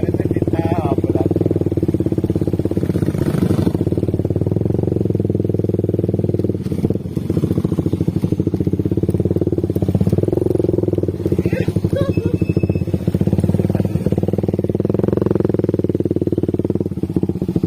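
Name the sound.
motorcycle engine passing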